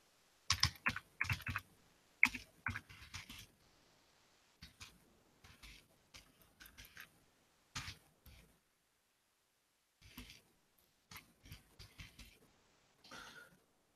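Quiet bursts of typing on a computer keyboard, scattered clusters of soft key clicks with pauses between, close and faint, without speech.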